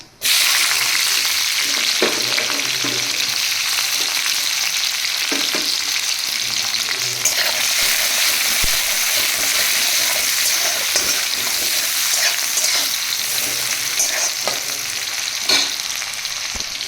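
A tempering of dried chili, bay leaf and cumin fries in hot oil in a wok, a loud, constant hiss and spatter that starts abruptly and holds throughout, close up, with scattered soft stirring scrapes and no voices.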